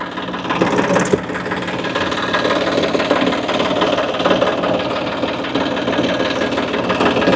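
A tractor engine runs steadily near a flooded riverbank, a loud continuous rumbling chug with a constant mechanical knock and rattle, no pauses.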